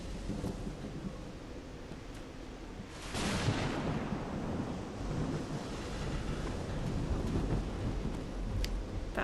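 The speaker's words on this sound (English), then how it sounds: "That thunder seems to be getting worse." Rolling thunder rumbles through a stormy night in the puzzle adventure game Call of the Sea, a broad crack swelling about a third of the way in over steady rain and wind, loud and continuous to the end.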